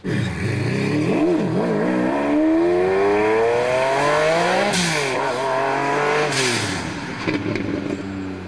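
A turbocharged Ferrari F50 climbs a hill, its engine loud and near, revving up and down through repeated rising sweeps with brief drops between gear changes.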